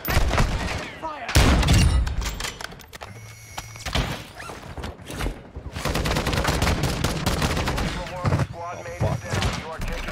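Video game gunfire in quick cracking bursts and scattered volleys, mixed with clunks and thuds, while voices talk over and between the shots.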